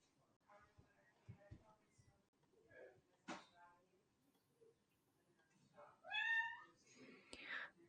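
A pet cat meows indoors, a drawn-out, rising-and-falling cry near the end, amid low background murmuring and a few soft knocks.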